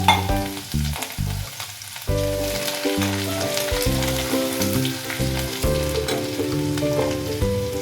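Ginger sizzling in hot oil with panch phoron for a Bengali masoor dal with ridge gourd, a steady crackling fry with stirring, alone and close, over faint background music.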